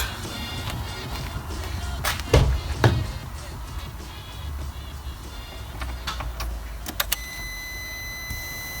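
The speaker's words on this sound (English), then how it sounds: "Let's plug it in and test it. I hope this motor is okay." A Vauxhall Corsa C wiper motor runs on a bench test with a steady low whir, broken by a few sharp clicks and knocks from handling close by.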